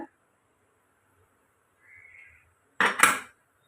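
A metal lid clanks down onto a pressure cooker of lentils with a short, bright clatter, preceded by a faint scrape in an otherwise quiet kitchen.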